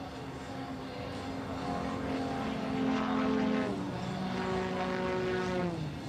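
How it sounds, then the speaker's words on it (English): Two of the fastest STOL drag race planes, propeller aircraft near 300 horsepower turning about 8,000 RPM, pass loud and close at an air race in Roswell, New Mexico, with a steady droning engine note that dips in pitch as they go by. "These are the 2 fastest planes in STOL drag."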